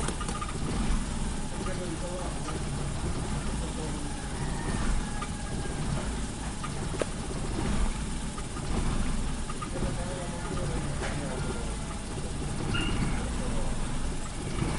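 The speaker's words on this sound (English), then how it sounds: "the engine is running. It seems like it's hunting." Mitsubishi Lancer GDI engine idling and hunting, its steady running drone continuous and fairly loud throughout with slight swells in level.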